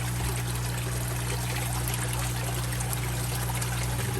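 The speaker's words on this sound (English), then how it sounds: "So I put some water in my potting soil." Water from an aquaponics system trickling and pouring into potting soil, a steady close splashing stream with a constant low hum running underneath.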